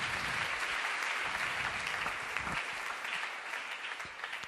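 A church congregation applauds during a sermon, a dense, sustained wash of clapping that fades slightly toward the end.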